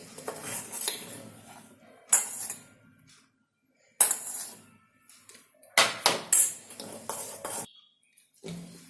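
Fruit cake batter being mixed in a bowl, with intermittent clinks and scrapes of a utensil against the bowl in short bursts separated by pauses, close and clear, no talking.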